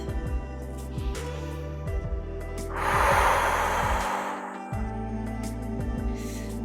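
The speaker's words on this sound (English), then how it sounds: "Expelling any last pent-up energy through strong exhales out the mouth." Strong exhales out the mouth during a yoga flow after knee circles, a long breathy whoosh in the middle over steady background music.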